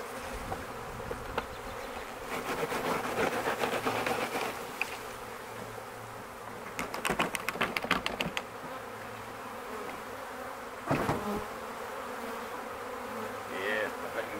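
A honey bee swarm in a park buzzes in a dense, continuous drone with louder swells as bees pass close, alongside handling noises and light background sound.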